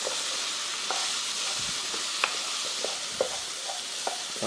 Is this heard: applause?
no